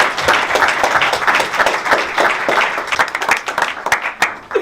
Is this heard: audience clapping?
yes